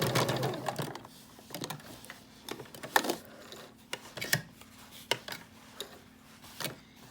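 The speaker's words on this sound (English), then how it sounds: "this time we're going to do a straight stitch right quick on this" Home sewing machine running a quick straight stitch to tack down fabric for gathering; soft, faint mechanical clicking and short bursts of stitching, close and intermittent, with no talking.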